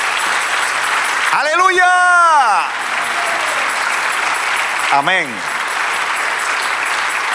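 A church congregation claps steadily throughout, while a preacher's voice rises over it in loud exclamations, first a long call and then a shorter one.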